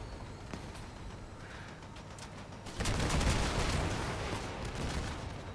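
Gunfire during a vehicle battle in the game Crossout: scattered distant shots at first, then a louder, denser burst of rapid fire with sharp cracks that carries on to the end.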